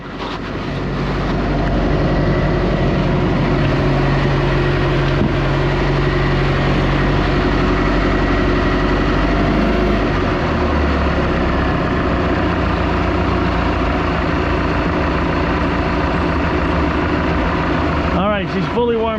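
A 1976 Mercruiser 120hp boat engine, fully warmed up, idles with a steady low rumble for the whole stretch, close and constant, with a faint scrape near the end.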